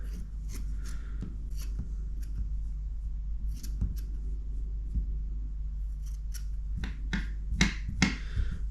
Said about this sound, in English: I'm just going to carry on trimming this and the other pieces back before the next stage